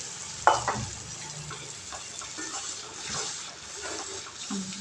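Tomatoes and prawns sautéing in a pan, a steady sizzle with stirring scrapes and a brief louder clatter near the start, close and continuous with no talk.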